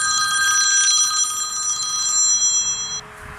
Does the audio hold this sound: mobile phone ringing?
yes